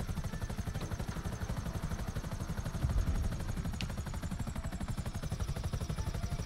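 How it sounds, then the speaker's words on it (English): A helicopter flying in Grand Theft Auto during a Doomsday Heist mission, its rotor thumping in a fast steady pulse with a whining engine hum, continuous and fairly close, with no talk over it. "Why are you flying this helicopter really stupid like?"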